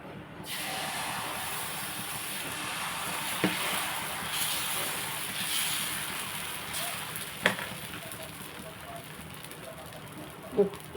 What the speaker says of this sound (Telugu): ఇంకో దోశ వేసుకుందాం